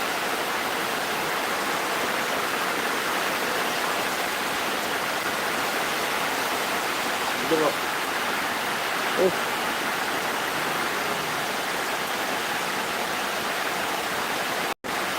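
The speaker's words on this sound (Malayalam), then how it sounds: "ഒരു രക്ഷയില്ലാത്ത മഴ" Heavy rain pours steadily near a terrace in Changanassery, a dense, even hiss with no breaks, broken only by a couple of faint knocks.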